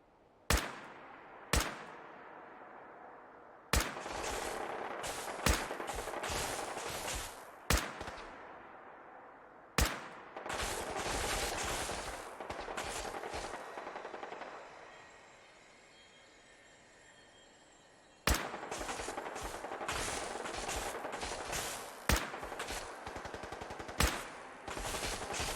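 Gunfire in Fallout 4: sharp, loud single shots spaced every few seconds, each followed by a long rumbling, rattling tail, with one stretch of sustained roaring noise in between.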